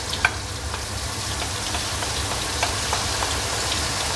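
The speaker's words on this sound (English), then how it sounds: "Once my butter is melted, I'm going to add the flour." Flour goes into melted butter in a pan to start a roux, giving a steady, close sizzle with light stirring and a brief clink near the start.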